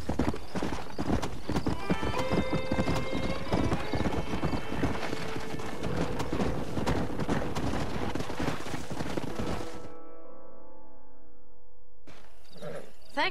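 Horse hooves clopping in a fast gallop with a whinny in Red Dead Redemption on Xbox 360, loud and close over game music, then cutting off sharply near the end before resuming briefly.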